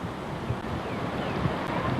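Wind buffeting a microphone high on a 500-metre cliff at Pico do Corcovado in the Serra do Mar, Natividade, steady broadband rush with low gusty rumble throughout, close and fairly loud, no voices.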